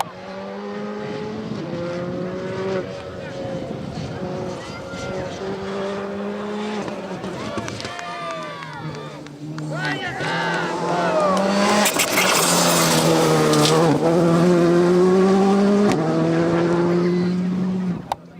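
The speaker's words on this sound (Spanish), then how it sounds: "Ya tenemos el coche cero" A rally zero car passes on the course at the Rallye Rías Baixas stage in Vigo, Nigrán, its engine note climbing and revving louder as it nears, heard from the roadside with people talking over it.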